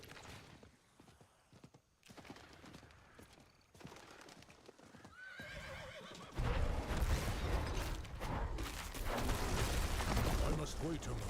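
In the Diablo IV video game, hooves clip-clop and a horse neighs over a rising din of combat crashes and effects, with a voice speaking along the way.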